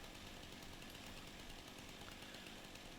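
Chainsaw cutting down a tree in the video game Farming Sim 25, a harsh, steady buzzing whine held without pause, quiet and evenly sustained with no talk.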